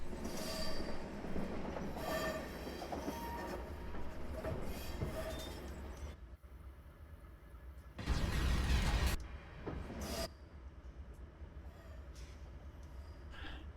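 A freight train on the Feather River route in Train Simulator 2021 rumbles steadily along, with wheel squeal, a louder roaring burst midway, and clattering rail noise and no speech.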